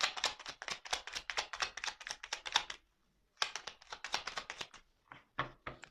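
Cards being drawn and handled, a rapid run of crisp close taps and flicks, a brief pause, then more quick card snaps, with no talking.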